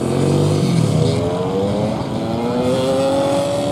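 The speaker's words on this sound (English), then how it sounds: "Junior 100cc two strokes make their way out onto the circuit." Junior 100cc two-stroke kart engines heading out onto a racing circuit, loud and continuous, with several buzzing engines rising in pitch as they accelerate together.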